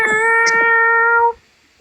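A domestic cat gives a clear, loud meow close by, a sustained tonal cry lasting about a second and a half with a soft lead-in, then silence.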